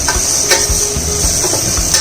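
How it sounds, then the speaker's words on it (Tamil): Potatoes sautéing with green chilli and turmeric in a pan: a steady close-up sizzle with soft scraping stir strokes repeating every half second or so, no voices. "பச்சை மிளகாய், மஞ்சள் பொடி வதக்கி இப்போ உருளைக்கிழங்கு அதில் போடுறோம்"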